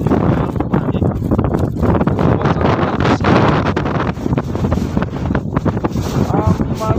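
Powerful wind roars and buffets the microphone without pause on a snowy mountain road toward Zero Point from Lachung, Sikkim, loud and turbulent throughout, with a faint voice near the end.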